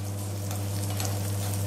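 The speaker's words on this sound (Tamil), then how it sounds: "கொஞ்சம் ப்ரௌன் கலர் வர்ற வரையும் வறுத்துக்கிட்டால் டேஸ்ட்டாக இருக்கும் பொங்கலுக்கு" Ginger and cashews fry in a pan of oil for pongal, giving a dense, even sizzle close up over a low steady hum, continuous for the whole short stretch with no talking.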